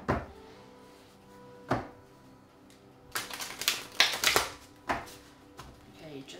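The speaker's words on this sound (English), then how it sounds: "Let's start shuffling those cards." Tarot cards being shuffled in several short bursts, crisp riffling and slapping sounds with brief pauses between them, close and fairly quiet.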